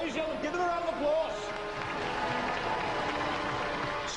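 A studio audience at a Robot Wars taping applauds the competitors. Clapping runs continuously and fairly softly throughout, with a voice speaking over it near the start.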